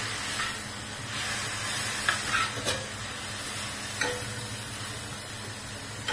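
Crushed peanuts being stirred into vegetables in a hot pan: a steady close hiss of sizzling with a few sharp scrapes of the spoon against the pan, and no talking.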